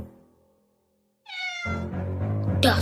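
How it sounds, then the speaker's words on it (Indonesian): A naughty cat meows once, a clear rising cry close by, followed by loud overlapping household noise and clatter. "Dasar kucing nakal."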